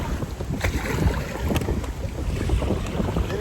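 Strong, gusty wind blusters across a lake during a bass fishing trip in a kayak, roaring steadily and loudly into the microphone with low rumbling buffets and faint water splashes.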